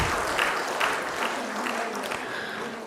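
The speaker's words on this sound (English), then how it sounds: "Let us give a big round of applause to welcome all our distinguished guests on the stage." Audience applause welcoming distinguished guests onto the stage at a national research conference, a steady, moderately faint wash of clapping that holds for about three seconds with a hint of voices underneath.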